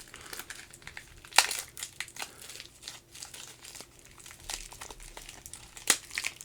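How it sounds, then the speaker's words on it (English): A clear plastic-wrapped Spawn Powercardz booster pack being opened, close crinkling and crackling of plastic wrap with a couple of sharper tearing bursts, alone. "Now let's open the booster pack."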